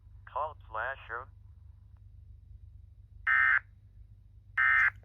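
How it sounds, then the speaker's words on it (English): An Emergency Alert System broadcast tone on a radio station, two loud, steady electronic bursts about a second apart, following a short stretch of rising, warbling synthetic tones over a low hum. "We are currently conducting an automatic weekly test of the emergency alert system."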